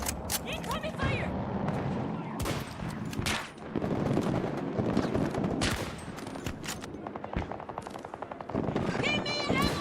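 Dense Battlefield video game combat, with rapid bursts of machine gun fire and single gunshots stacked over a busy battle din, and voices shouting amid the shooting.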